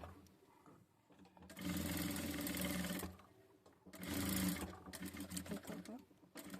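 Sewing machine stitching a strip along a katori blouse neckline, running in two bursts of rapid whirring stitches of about one and a half seconds each, close and fairly loud, with quieter handling and someone speaking between them.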